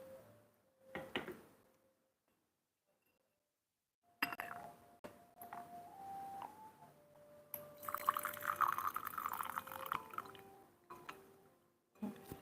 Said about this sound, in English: Here now we rinse the tea.